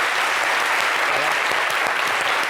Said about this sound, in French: Vraiment, acclamez vos publics.